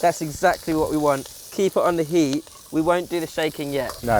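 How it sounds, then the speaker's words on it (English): Ginger, garlic and spring onion sizzle in hot wok oil as a steady hiss beneath someone speaking close by. "That sound is great, sizzling sound."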